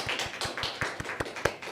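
A church congregation claps in thanks and encouragement for newly appointed deacons: a steady, evenly spaced run of crisp handclaps, fairly close and unaccompanied by talk.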